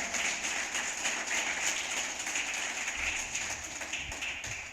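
A church congregation applauding together, a dense continuous patter of many hands clapping that holds steady for several seconds with no voices over it.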